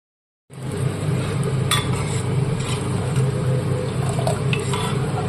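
A spoon scrapes and clinks against a pan while ghugni, a dish of spiced dried peas, is stirred, with a steady sizzling bed underneath and occasional sharp metallic taps, close and continuous after a brief silent start.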